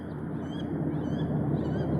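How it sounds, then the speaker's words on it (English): Wood duck calling outdoors, its squeaky honking calls repeating through a steady low rumble of background noise across two seconds. "That's a wood duck. Hear it?"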